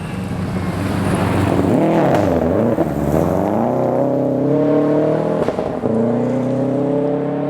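A Dent Sport Garage prepared Subaru STI rally car roars loudly on a rally stage, its engine revving and sweeping through gear changes as it passes close by, with no talking.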